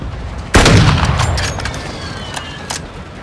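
A close air support strike in a shooter game lands as one sudden loud blast, followed by a rumbling decay and a couple of faint distant cracks.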